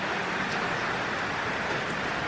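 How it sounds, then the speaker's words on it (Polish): Rain falling steadily in a Hawaiian jungle among banana and papaya trees, a dense, even hiss of small drops with no talking, constant and moderately loud. "Skończyły się żarty, teraz naprawdę pada."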